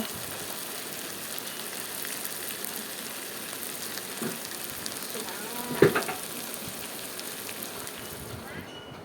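Small fish fry in a wok with a faint, steady crackling sizzle. A single sharp clink of a utensil sounds about midway through.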